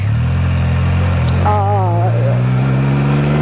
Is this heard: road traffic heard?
yes